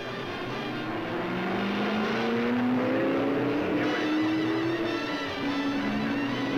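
Ford and Ferrari race cars at the 1966 Le Mans 24 Hours, a continuous loud engine roar with rising whining pitch as cars accelerate past, heard over a dense, noisy crowd and track background.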